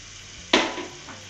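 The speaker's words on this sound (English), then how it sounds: "in the smoking hot pan, I just want to get some butter melting" Butter hits a smoking hot pan with one sudden sharp sizzle that then fades and settles, close and fairly loud, with no talking.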